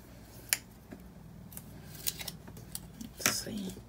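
Paper is cut for a floral weekly planner layout in a series of crisp, separate snips and slices with pauses between them, fairly close and quiet, while a voice speaks softly in the background.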